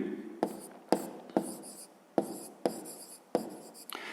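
Handwriting on paper while working a grade 5 maths exercise, heard as a series of close, quiet scratching pen strokes with sharp taps at the start of each stroke, spaced about half a second apart.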